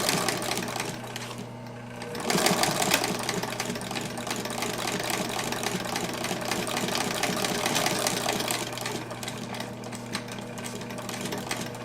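A Singer 43-7 walking-foot sewing machine stitches through material with a fast, even mechanical hum and rapid needle clatter, close and continuous for most of the stretch without speech.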